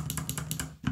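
Cherry Clear mechanical keyboard switches typed in quick succession, giving about five crisp, close clicks in an even rhythm with no voice.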